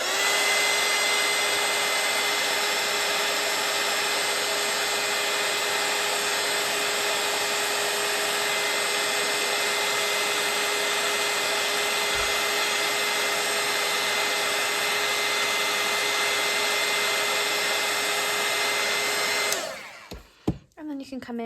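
A hair dryer blows steadily and loudly over watercolour paint on an ornament painting, holding a constant whirring hum for about twenty seconds before it cuts off abruptly with a few clicks and handling noises at the end.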